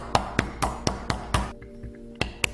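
Sharp hammer strikes splitting a piece of wood into chunks indoors, about eight distinct close blows in an irregular rhythm, with a short gap partway through.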